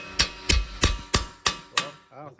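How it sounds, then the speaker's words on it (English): Six sharp metallic hammer blows land at an even pace on a stuck bolt during a Fiat Pop front shock absorber replacement, loud and close, with a brief voice at the end. "we're gonna grab our hammer and slam on it a little bit"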